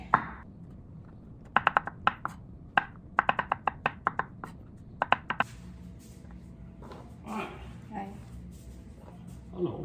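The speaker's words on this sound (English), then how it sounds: "We have to cut it. Fresh mushroom for our burger steak." Fresh mushrooms are sliced with a knife on a board for burger steak, a quick run of sharp close chopping taps that stops partway, followed by quieter kitchen sounds and some talking.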